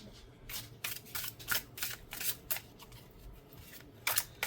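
Repeated crisp hand-over-hand shuffles of a deck of playing cards, riffles and flutters in a quick irregular rhythm, close and fairly loud, with no talking.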